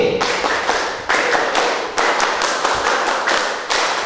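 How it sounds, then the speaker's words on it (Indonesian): Hizbul Wathan scouts clap out the rhythmic 'tepuk hawe' pattern together, in loud, sharp bursts of unison claps separated by brief gaps. "Ya, coba tepuk hawe."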